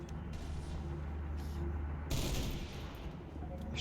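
Gunfire in the video game Halo Reach: a low rumbling backdrop broken by a sharp, loud burst of shots partway through, followed by a few fainter reports.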